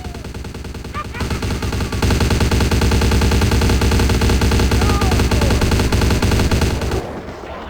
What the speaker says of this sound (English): looks like they got some submachine guns there